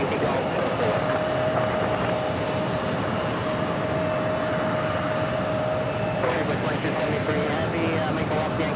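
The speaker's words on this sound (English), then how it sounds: "Alaska launch flight 25 heading to San Diego, 737 MAX 9." An Alaska Airlines Boeing 737 MAX 9 takes off at JFK airport, a steady roaring jet engine rumble with a sustained whine, while someone talks over it.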